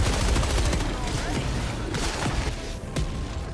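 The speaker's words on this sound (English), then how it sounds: "The machine gun feels like it rips so hard." A machine gun in Helldivers 2 fires in rapid, dense bursts, loud and up close from the start and continuing throughout with steady, rattling intensity.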